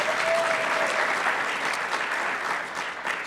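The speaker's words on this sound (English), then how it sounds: "can we give Patty and her team a round of applause for their amazing work?" A steady round of applause fills an event hall at Southern Connecticut State University, dense even clapping from an audience sustained throughout without pause.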